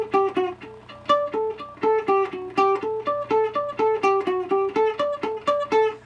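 Palm-muted picking on an electric guitar with no delay effect, rapid evenly spaced muted notes in a steady rhythmic pattern with clear ringing pitches, close and fairly loud.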